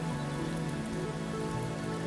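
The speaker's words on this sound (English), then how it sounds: "the rain falling onto a tall tree and then showering down" Rain falling onto the leaves of a tall tree, a soft, even patter and hiss, steady and fairly faint with no voices.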